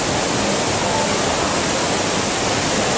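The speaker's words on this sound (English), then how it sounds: "Love the waterfall." A waterfall roars as a loud, constant rush of falling water, close and alone with no talking.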